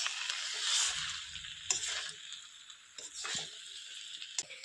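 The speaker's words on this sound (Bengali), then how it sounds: "এবার এটাকে আমি হালকাভাবে নেড়ে নিচ্ছি।" A spoon stirring muri ghonto with garam masala in a pan, soft intermittent scraping and squishy stirring over a faint sizzle, fairly quiet with a few sharper clinks of the utensil.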